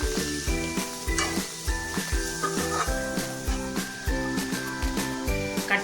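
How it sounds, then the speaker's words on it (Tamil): Chopped onions sautéing in a hot pan for wheat upma, a steady close sizzle with repeated rhythmic scraping and stirring strokes of a spoon against the pan. "நல்லா வெங்காயம் வதங்கட்டும். வெங்காயம் நல்லா வதங்கிடுச்சு."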